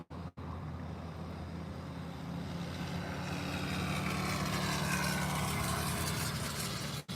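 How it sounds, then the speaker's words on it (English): A noisy scooter engine drones past outdoors, a steady mid-pitched motor hum that swells gradually and stays fairly loud for several seconds before cutting off abruptly, with no talking. "That is a noisy scooter."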